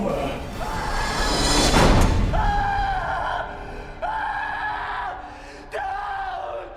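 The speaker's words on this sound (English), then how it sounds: "And with that, my precious baby Adam is left screaming in the dark." A man in the Saw horror film screams in the dark after a bathroom door slams shut. A slam comes first, then loud, anguished yells return in repeated bursts, each one cutting off sharply.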